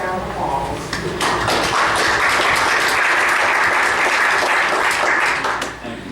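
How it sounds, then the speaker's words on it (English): Applause in a county fiscal court meeting room, a loud, close wash of clapping from a small gathering that swells and then fades, with a voice briefly heard at the start. "I do think they deserve another round of applause."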